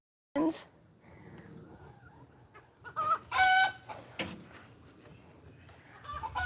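A broody hen clucks and squawks in a nest box in scattered, irregular bursts, fairly close, with a person talking over the chicken sounds.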